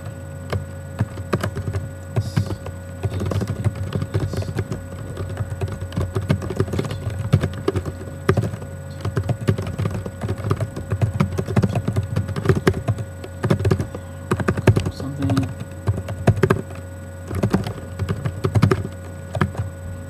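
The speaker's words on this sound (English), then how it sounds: "Website, church, whatever your website is, type that in there" Steady, close typing on a computer keyboard, a dense run of clicking keystrokes with a few sharper taps, continuing for the whole stretch over a faint electrical hum.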